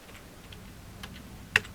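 A few soft computer keyboard presses while working in Tally Prime accounting software, faint taps ending in one sharper, louder key strike, heard alone and close.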